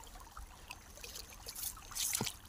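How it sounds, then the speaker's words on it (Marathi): Water trickles and gurgles through a farm irrigation channel, a soft, close dribbling flow with a brief louder splash near the end and no talk. "इथं असं बंद केलं का पाणी जाते पुढे"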